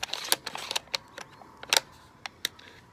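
Two-position safety on a pre-'64 Winchester Model 70 rifle being worked back and forth, giving a series of sharp, close metallic clicks spaced irregularly, some in quick pairs, with no talk.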